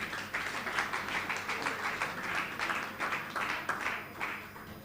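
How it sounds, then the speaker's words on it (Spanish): A church congregation applauds during a worship service, producing continuous dense clapping with a loose rhythmic pulse that holds steady throughout. "Un aplauso por su altura, alabanza a Jesús."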